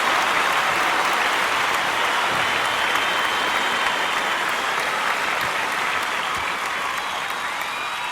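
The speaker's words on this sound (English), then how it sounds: "he received an exceptional applause when she announced him" Sustained, dense audience applause fills a live concert venue, loud and even throughout as many hands clap together.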